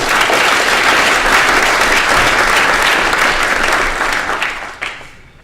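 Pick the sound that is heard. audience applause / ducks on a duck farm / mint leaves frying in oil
audience applause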